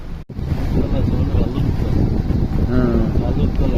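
Broad, rumbling roar of cyclone-driven sea waves surging beside a road, heavily buffeted by wind across the microphone, with a brief dropout near the start and faint talk mixed in.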